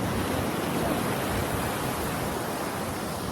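Strong ocean waves at the shore at Casolares, Bolinao, Pangasinan, heard as a steady, loud, broadband wash of surf with no pauses and no voices.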